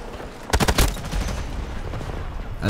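Gunfire in the shooter video game Battlefield 2042 comes as a loud, close burst of several rapid shots, then a rumbling tail of game ambience and no talking.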